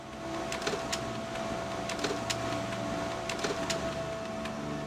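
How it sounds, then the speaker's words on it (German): A printer runs in the game Memento Mori II, giving off a steady mechanical whir with a faint tonal hum. Soft rhythmic clicks and ticks of the paper feed repeat over about five seconds. "Der Drucker funktioniert."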